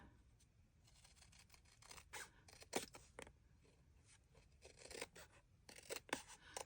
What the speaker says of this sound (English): I'll use my scissors.